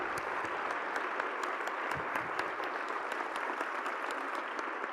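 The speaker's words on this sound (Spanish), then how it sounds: "Un aplauso muy fuerte para Leonardo Padura." Sustained audience applause at a university meeting with students of UNAM in honour of writer Leonardo Padura, a dense, even wash of many hands clapping at moderate distance, with a few sharper individual claps.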